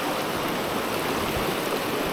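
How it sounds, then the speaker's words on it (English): Little River in the Great Smoky Mountains flows nearby, a steady, full rushing of water over rocks that stays even and fairly loud throughout, with no voices. "And there's the river right over here"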